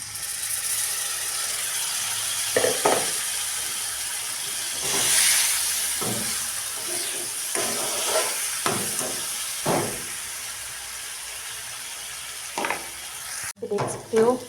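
Tomato paste sizzles and crackles steadily in hot oil, with occasional scraping stir strokes and a clack near the end.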